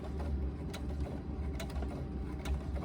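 A sewing machine stitching back across the top seam of a laptop bag, a low mechanical whirr with regular light ticking clicks from the needle, steady and close, with no talking.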